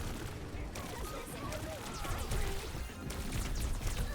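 Gunfire in the video game Overwatch, a busy clatter of shots and impacts amid battle noise, fairly quiet, with a voice talking over the action.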